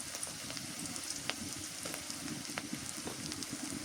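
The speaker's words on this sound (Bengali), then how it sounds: "মরিচ পেঁয়াজ ভাজা হয়ে গেছে, লবণ দিয়ে দিই, হলুদের গুঁড়া দিয়ে দিই" Chili, onion and spices frying in a pan for a village-style river fish curry, giving a steady close sizzle with small crackles throughout and no talking.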